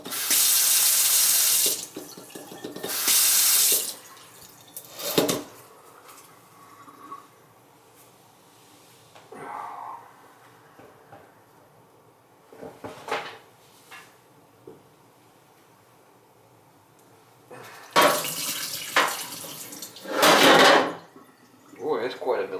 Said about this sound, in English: We'll have to run the sink and see what's happening.